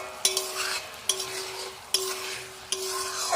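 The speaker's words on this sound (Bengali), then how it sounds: "যে মশলাটা ভাজা ভাজা হবে, চালটা দিয়ে দিই, তাহলে তাড়াতাড়ি হয়ে যাবে।" Rice added to frying spices is stirred in a pan, with four sharp scraping strokes spaced evenly over a steady low sizzle and no talking.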